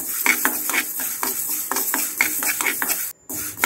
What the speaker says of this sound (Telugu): ఇప్పుడు మనం ఆవాలు మెంతుల్ని వేపుకుందామండి